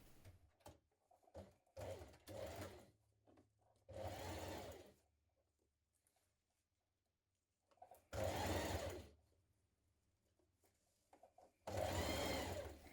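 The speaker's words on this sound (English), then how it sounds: "So I'm going to stitch this in place now." Sewing machine stitching a seam on a stretch leotard, running in several loud bursts of rapid stitching separated by pauses, with longer runs near the middle and end.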